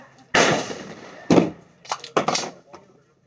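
A Stribog SP9A3 firing, with poor ammunition, gives about six sharp, loud cracks: two well-spaced single shots, then a quick cluster of three and one fainter final report, each decaying quickly into quiet.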